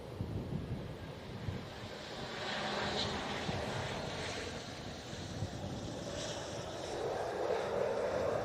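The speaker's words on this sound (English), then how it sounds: "Here's the Air France after its unusual routing." An Air France airliner arriving from Paris at Manchester Airport roars as a steady broad jet rumble, moderately distant and swelling slightly, mixed with wind buffeting the microphone and no talking.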